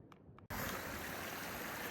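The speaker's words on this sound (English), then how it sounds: "So I just got some water from this stream right here, and now I have to cross it." A stream of water flows over rocks outdoors, a loud steady broadband rush that cuts in abruptly after a couple of faint knocks and continues without pause.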